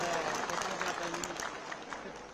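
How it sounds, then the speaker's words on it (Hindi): Steady applause from a crowd at an outdoor political election rally in Kotdwar fills the space, a dense wash of clapping with a few voices mixed in. "एक बार इनके लिए भी तालियां बजा दीजिए।"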